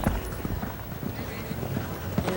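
Horse hooves during a show jumping round at Spruce Meadows, irregular thuds of hoof strikes on the course under a commentator's continuous talk.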